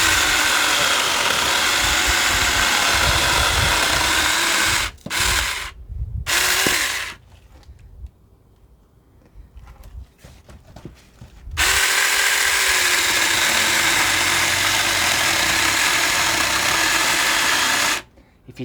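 Saker 4-inch mini electric chainsaw cutting wood, a loud steady motor whine broken by short drops and a long quieter gap near the middle before the cutting roar returns.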